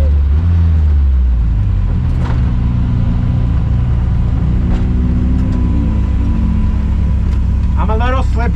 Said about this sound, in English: the power on this car is wild